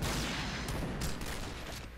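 Gunfire in the first-person shooter game Point Blank crackles in a rapid, dense burst of shots, loud and close, tapering off toward the end with no talk over it.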